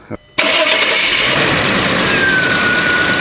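A VW Passat with a 2.8L engine cranks and fires up after a brief quiet moment, then settles into a loud, steady idle close by.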